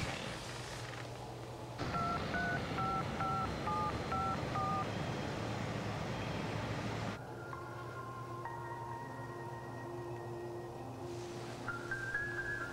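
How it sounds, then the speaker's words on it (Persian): Telephone keypad dialing tones, a quick run of paired beeps followed by longer steady tones, heard loud and clear over a constant low hum with no voices. "این تلفن منه."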